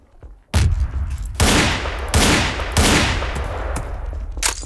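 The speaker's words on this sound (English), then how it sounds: "Man, the revolvers, that's what I like." Revolver gunfire in Garry's Mod, several loud, close shots in a row about once a second, each with a booming tail, preceded by a brief quiet moment.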